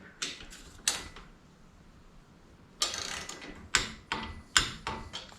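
Wrench work on the bolts of a pannier rack being fitted to a Royal Enfield Himalayan motorcycle, heard as close, separate metallic clicks and ratcheting creaks, a few isolated and then a quicker cluster.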